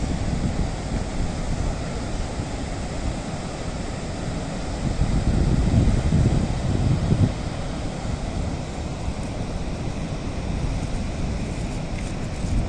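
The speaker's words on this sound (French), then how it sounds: "Regardez les vagues de malades." Ocean surf pounds the coast near Biarritz, a constant roaring wash that swells slightly midway, mixed with heavy wind buffeting the microphone.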